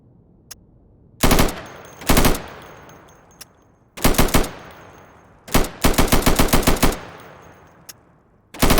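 Gunfire on a shooting range in the game Insurgency, rounds punching through plywood targets: loud single shots and a rapid automatic burst, close and sharp, with quiet decaying gaps between, no talking.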